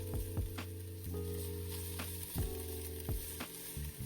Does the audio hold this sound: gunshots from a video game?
no